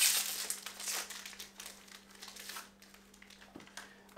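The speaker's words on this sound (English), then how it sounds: "So we just tear that open." Paper packet of a first aid dressing pad being torn and opened, with close crinkling and rustling that is sharpest at the start and softens into lighter handling sounds.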